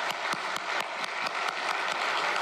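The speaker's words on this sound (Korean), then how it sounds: "큰 감사와 찬양과 영광의 박수를 올려드리겠습니다" A church congregation claps together in a sustained round of applause, dense and steady, with sharper individual claps standing out throughout.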